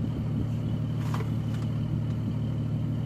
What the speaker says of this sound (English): Hurry up, here comes the car